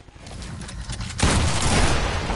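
Gunfire rattles in a shooter video game, a dense burst of shots close and loud that swells sharply partway through.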